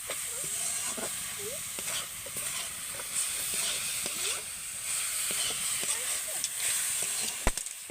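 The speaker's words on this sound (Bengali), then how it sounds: "এবার এই গুড়ের মধ্যে আমি নারকেল কোড়াটা দিয়ে দেবো এবার ভালো করে নেড়ে চেড়ে" Grated coconut is stirred into melted jaggery in a pan, giving a steady soft hiss and sizzle with faint scraping strokes throughout.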